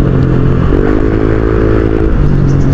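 Honda Click 125i scooter fitted with an MT8 racing pipe exhaust, running loud and close with a steady droning engine note and a slight rise in pitch partway through, with no talking.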